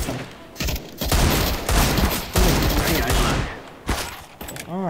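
Bursts of gunfire in a Counter-Strike co-op mission video game, repeated loud volleys separated by short pauses.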